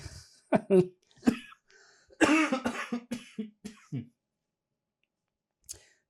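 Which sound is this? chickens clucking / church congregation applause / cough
cough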